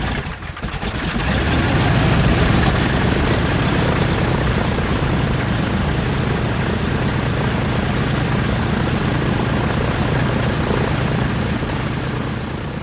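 Twin Pratt & Whitney 1830 radial engines on a Douglas DC-3, each 1,830 cubic inches and 1,200 horsepower, drone in a steady, loud, dense roar with a throbbing propeller beat that holds unbroken throughout, no voices.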